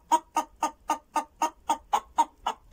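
A hen-like bird with a rooster's tail and no comb clucks in a steady run of about ten evenly spaced, close calls, alone with no talk.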